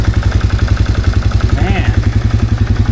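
A cheap 4x4 ATV with a loud cherry bomb exhaust and melted plastics idles close by, its engine throbbing in a fast, even pulsing rhythm with a brief voice over the clatter.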